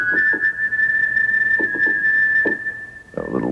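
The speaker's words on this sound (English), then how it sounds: "A little whistle sound." A synthesizer whistle voice holds one steady high tone throughout, with faint soft background sounds beneath and a brief low burst near the end.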